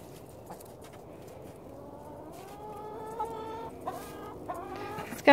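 Chickens cluck in a mobile coop on a sunny day, a close run of rising, drawn-out calls with a few sharper squawks and a loud burst at the end.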